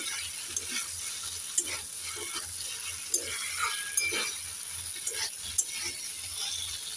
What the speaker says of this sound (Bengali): এবার আমি দিয়ে দেব ভেজে রাখা ভেন্ডি আর আলু, একটু নেড়ে চেড়ে দিয়ে দেব।